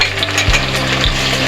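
Chopped tomatoes added to light-brown onions frying in a pan, with a steady close sizzle and a couple of soft thuds as the tomatoes drop in and are stirred, loud and continuous with no voice.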